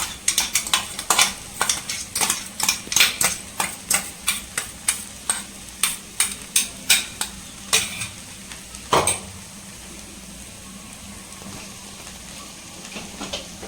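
Grated coconut sautés in a pan while a spoon stirs it. Rapid scraping and clinking strokes repeat in a steady rhythm for about nine seconds under a soft constant sizzle, then the stirring stops and only the quiet frying hiss continues.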